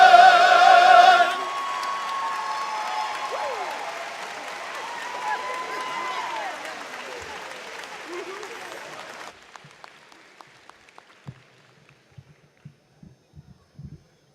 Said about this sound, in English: Wow, that's another round of applause.